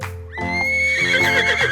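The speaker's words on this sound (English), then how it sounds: "Horse." A horse on a farm gives a loud, close whinny that rises and wavers, with a long harmonic neigh running through most of the clip and no voices over it.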